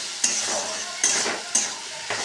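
A tomato fries with ginger, garlic and green chili paste in a pan, the steady sizzle broken by four sharp scrapes of a spoon stirring against the pan, close and with no talk.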